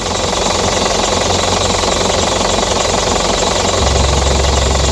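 A 2014 Isuzu Elf NHR truck engine runs steadily up close, a loud, continuous rumbling drone with a dense mechanical clatter and no talking.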